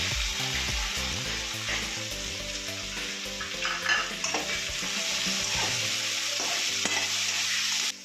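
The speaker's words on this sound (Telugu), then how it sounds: "ఉల్లిపాయలు పచ్చిమిరపకాయలు వేగినాయి కదా, పచ్చిరొయ్యలు వేసుకోవాలి" Raw prawns frying in a pan with onions and green chillies, a loud continuous sizzle with stirring scrapes close up, no talking.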